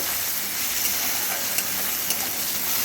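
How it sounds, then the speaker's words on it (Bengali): Chopped tomato and onion frying in oil for a Bengali masoor dal, giving a steady, close hiss of sizzling with a few faint clicks and no voices. "এবার এগুলোকে তেলের মধ্যে একটু ভালো করে কষিয়ে নেব"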